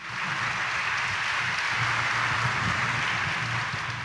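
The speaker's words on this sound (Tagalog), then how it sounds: "Pinakamalakas na palakpak natin." A congregation at Sunday Mass in Quiapo Church claps loudly and steadily, a dense continuous wash of applause filling the large space from start to finish.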